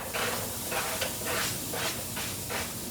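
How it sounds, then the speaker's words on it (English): Chopped onion sautéing in olive oil in a pan, a steady close hiss with faint rhythmic pulses as the pan or spoon moves, alone without talk. "I'm going to saute"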